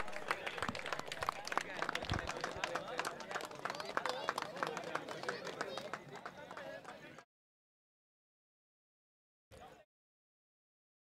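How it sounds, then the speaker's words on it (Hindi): An audience applauds at an outdoor volleyball trophy prize ceremony: steady, moderately distant clapping from a crowd for about seven seconds, then it stops abruptly and near-silence follows. "जोरदार तालियां होनी चाहिए."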